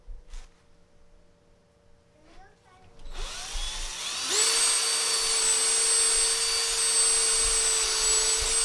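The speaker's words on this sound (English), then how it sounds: "so now I'm gonna drill them" A power drill spins up and bores into wooden cap strips for porch screening, settling into a loud, steady high whine that continues without pause.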